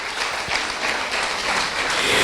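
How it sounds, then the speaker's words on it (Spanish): Loud, sustained applause from a large church congregation fills the whole moment, steady and even throughout. "Dale ese aplauso al Señor."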